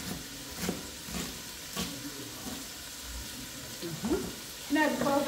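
Shrimp and onion sizzle steadily in a hot pan with a continuous frying hiss, punctuated by stirring and clattering utensil knocks, and brief voice sounds near the end.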